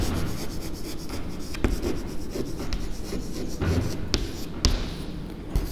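Writing on a board or paper during a maths lesson on determinants, a continuous scratchy rubbing with short sharp taps between strokes, fairly close and alone.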